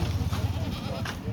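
Rajasthani Marwari goats bleat near a loaded vehicle, several overlapping bleats rising over a busy rumbling background with a faint voice.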